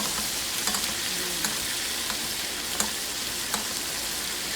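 Beef tenderloin sizzles steadily in a hot pan while being basted, a dense crackling fry with soft spoon scrapes and small taps at intervals.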